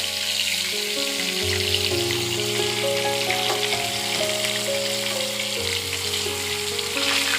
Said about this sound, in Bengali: পটলগুলো কিন্তু আমি ভালো করে লাল লাল করে ভেজে নেব।